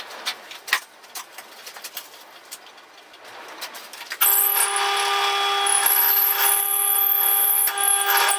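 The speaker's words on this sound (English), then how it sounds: "now to drill out a hole in the centre of that" A power drill starts up partway through and whines steadily and loudly at a constant pitch, drilling a centre hole in a floating blade guard, after a few scattered knocks and taps.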